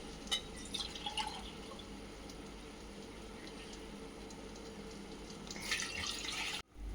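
Water runs and splashes into a cooking pot for tomato rice in a steady stream, close by, with a few clinks and a brief louder pour before stopping.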